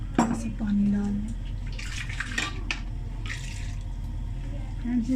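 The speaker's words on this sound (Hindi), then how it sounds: "पानी डाल दें।" Water is poured into a cooking pot of mutton with ground spices, a brief splashing gush followed by bubbling and clatter, while someone talks nearby.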